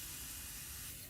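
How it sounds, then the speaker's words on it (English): Fine mist sprayer loaded with distilled water gives one short continuous spray, a soft, even hiss close by with no voices. "I'm going to go ahead and spray with this is my fine mist sprayer. It sprays a fine mist of water."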